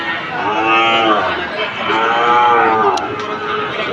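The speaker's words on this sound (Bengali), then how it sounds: "এই বাছুরগুলো কিন্তু কুমিল্লায় যাবে আপনারা দেখছেন খুবই চমৎকার বাছুর" Sahiwal bull calves lowing at close range on a farm, several loud drawn-out moos following one another and overlapping, with no gaps of quiet between them.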